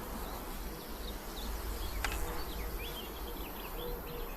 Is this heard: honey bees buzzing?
yes